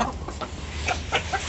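Leghorn hens cluck in short, scattered calls at moderate distance over a low steady background hum.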